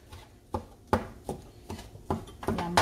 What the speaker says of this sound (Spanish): yo voy a picar un poquito de lengua que voy a utilizar